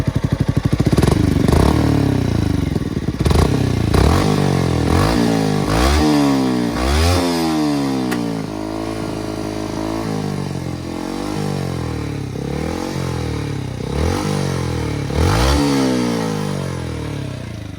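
A 2020 Yamaha YZF-R125 with a GP Carbon Radical Racing exhaust revs repeatedly, the exhaust rising and falling in sharp bursts with a deep, raspy roar, loud and close.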